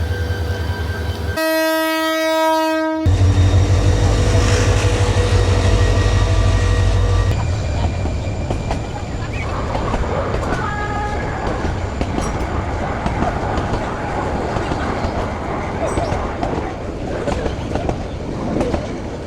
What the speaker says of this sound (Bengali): এখন আমার সামনে দেখতে পাচ্ছেন উনত্রিশশো একুশ সিরিজের একটি লোকোমোটিভ